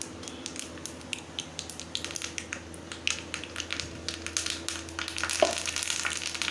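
Cumin seeds and curry leaves fry in hot oil for a dal khichdi tadka, a close, continuous sizzle with crackling spits and light stirring clinks, no talking.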